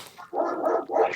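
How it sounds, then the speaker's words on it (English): A dog gives two quick barks in close succession, fairly near and clear, with no speech over them. "That's the dogs."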